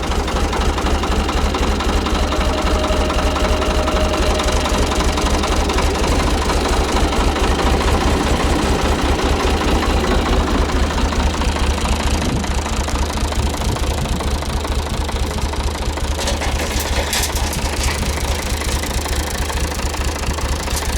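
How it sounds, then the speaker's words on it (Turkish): A fifty-year-old 1971-model engine, fitted with a cab, runs steadily with a heavy, rhythmic knocking throb that stays loud and close for the whole stretch, with no voices over it. "Yani şu motor baktığınız zaman 50 yaşında bir motor. 1971 model."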